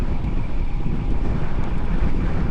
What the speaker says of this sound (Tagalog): Nakakapagod na tong headwind na to ah.